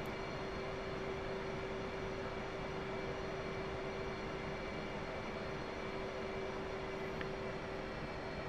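A jet taxiing on a supercarrier deck in the DCS flight simulator, a steady engine roar with a sustained whine running unbroken, at moderate distance, with no talking.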